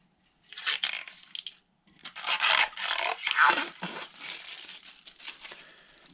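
Protective plastic film is peeled off a new DK-80 ultrasonic cleaner, giving close crinkling and tearing rustles in two bursts separated by a brief pause and then fading to softer rubbing.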